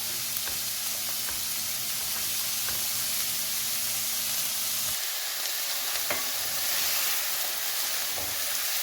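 Peppers fry in a pan alongside caramelising onions with a steady, dense sizzle and hiss, broken by a few soft clicks as the vegetables are stirred; no voices are heard.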